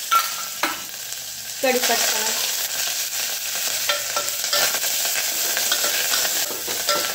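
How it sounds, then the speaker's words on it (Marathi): Mustard seeds, cumin and garlic crackle and sizzle in hot oil for a tempering, with a sharp burst as they hit the pan, then steady frying and a spoon stirring, close up; one word is spoken briefly. "बघा आता तेल तापलंय. याच्यामध्ये मी मोहरी, जिरं, लसूण"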